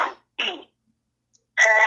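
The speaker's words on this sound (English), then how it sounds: "I got like a cough going on" A person gives short throaty bursts of coughing and throat clearing, close and fairly loud: two quick rasps separated by silence, then a longer harsher clearing at the end.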